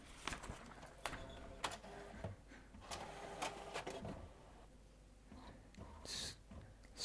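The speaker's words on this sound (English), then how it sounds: "Sounds like this time it is doing the printing." An HP PhotoSmart inkjet printer prints a self-test report, giving faint rhythmic mechanical clicks, whirs and print-head shuttling with short pauses, heard close up and alone.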